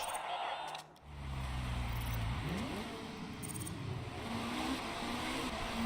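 A GT race car in the Motorsport Manager racing game slows into the pits with its engine note dropping and then rising in pitch, a steady mid-level drone with other car noise around it.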